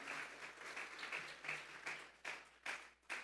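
A church congregation claps together as an offering to God during a sermon, a quiet, fairly distant patter of applause rising and falling in waves, with a few sharper clap bursts near the end.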